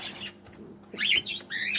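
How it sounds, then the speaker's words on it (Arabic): Caged pigeons in a bird shop call and shuffle nearby, with a brief flutter and soft chirpy cooing that swells toward the end. "في مجموعة حمام برضه"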